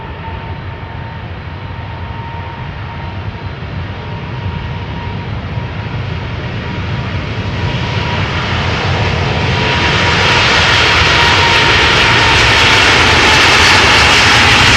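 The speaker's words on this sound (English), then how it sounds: "So this is KLM flight 751, 777-200, ER, 19 years old, first flight April 2004," A KLM Boeing 777-200ER, nineteen years old and bound for Quito, spools up its jet engines at Amsterdam Schiphol, a broad steady roar that swells louder and brighter over the span, with no talking.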